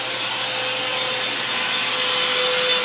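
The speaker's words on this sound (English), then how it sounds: "the router just takes that cutter and goes right on down the stick" Steady, loud high-pitched whirring and shredding of a power router cutting through wood, a continuous noisy rasp with a faint tonal whine.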